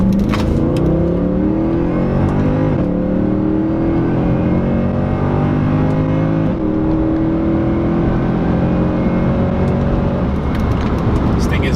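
A 2014 Mercedes C63 AMG engine revs and accelerates hard, its exhaust note rising through several gears with brief shift breaks, loud and close throughout.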